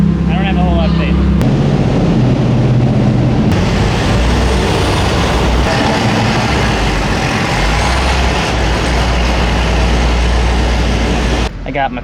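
A truck maneuvers a trailer into a parking spot, its engine rumbling steadily and loudly up close for most of the stretch, with broadband road and exhaust noise that cuts off near the end.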